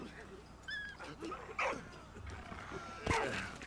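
A dog in the Valiant Hearts video game gives a few short yips and whimpers while digging, brief bright bursts mixed with scratchy noise, heard under someone talking.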